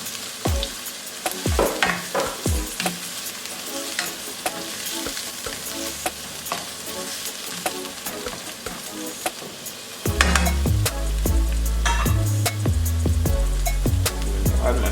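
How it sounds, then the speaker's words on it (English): Onion and tomato sauté in a pan for callaloo and saltfish, with a constant sizzle broken by repeated sharp scrapes and clinks of stirring, turning louder and fuller partway through. "And I'm going to add my onion and my tomato. And guys, we just need to saute these for about 2 to 3 minutes."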